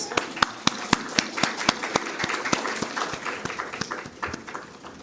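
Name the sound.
audience applause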